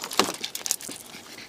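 A collapsed dog rescued from a hot car pants and whimpers in quick, uneven breaths, close and moderately loud, without speech.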